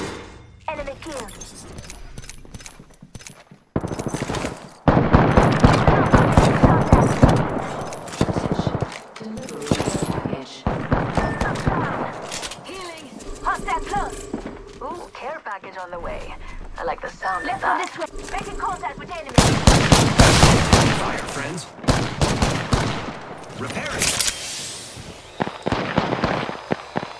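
Gunfire in the shooter Apex Legends on Xbox One: bursts of rapid automatic shots and single cracks, loud and close, mixed with game effects, with voices talking over parts of the action.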